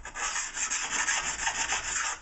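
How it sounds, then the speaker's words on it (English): A stone is rubbed along the steel edge of a snowboard to detune it, giving a close, gritty rasp in quick, repeated back-and-forth strokes with no talking. "First off, we're going to detune the snowboard"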